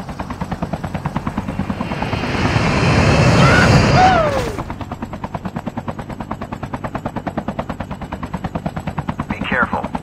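A helicopter in Call of Duty Mobile battle royale beats with a steady, rapid rotor chop throughout, while a burst of gunfire and a swelling rush build and fade in the middle.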